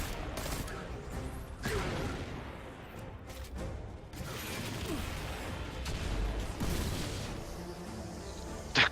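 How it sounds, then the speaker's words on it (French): Explosions and gunfire from the video game Destiny 2 during an ambush, dense overlapping blasts and shots forming a continuous loud barrage with several sharper bursts, ending on a final loud hit. "J'ai pu entendre les explosions d'ici."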